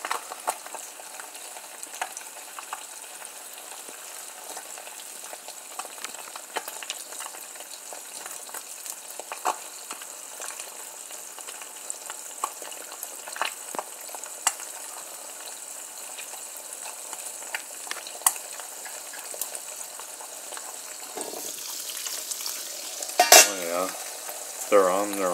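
Butter-fried eggs crackle and sizzle steadily in a hot pan, a continuous dense frying hiss with small pops throughout, no talking, with a few clinks of utensils near the end.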